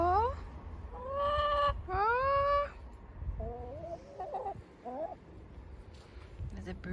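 A broody hen clucks and makes drawn-out rising calls inside a henhouse on a UK allotment, close by, with a person's voice softly talking alongside.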